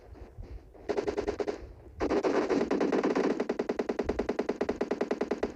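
Automatic gunfire from a close-range fight in the PUBG battle royale game, with an M416 rifle among the weapons; sustained bursts of rapid rhythmic shots, pausing briefly before a long continuous stream, loud and without talk.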